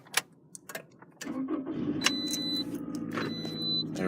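A car engine cranks and catches after a key is turned in the ignition, preceded by a few faint clicks and key jingles, then settles into a steady close idle.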